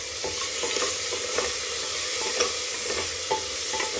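Peas, cauliflower and beans fry for veg biryani, with a steady sizzle under repeated scraping stirs of a spoon in the pan, close and fairly loud, with no talking.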